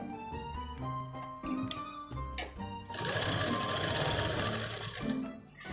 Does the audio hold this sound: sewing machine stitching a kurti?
yes